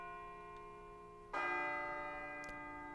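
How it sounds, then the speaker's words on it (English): A single deep, ominous bell tolls once in the video game Persona 3 FES, its sustained ringing tone decaying slowly after the strike over a soft steady drone. "It sounds like a bell, but where's it coming from?"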